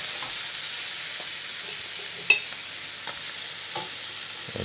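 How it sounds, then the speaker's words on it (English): Butter sizzles steadily in a hot skillet with scallops, a soft continuous frying hiss with a single sharp clink partway through and faint spatters. "let's go ahead and add a little bit of our butter to the skillet"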